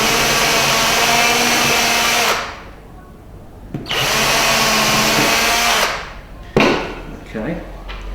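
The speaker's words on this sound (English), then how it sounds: "I'm going to drill some pilot holes for the nails as well" A power drill bores pilot holes into timber for galvanised roofing felt nails on a wooden bird box, running in two long steady bursts with brief pauses and a sharp knock between them.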